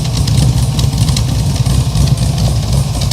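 A Sunbeam Tiger with a swapped-in LS V8 runs close by, its loud, lumpy idle rumbling unevenly with small throttle surges and body shake rattling over the engine.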